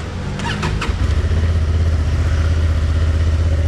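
A Honda Transalp 750 fires up close by: a brief starter whir and cranking give way to the engine catching and settling into a loud, steady, throbbing idle.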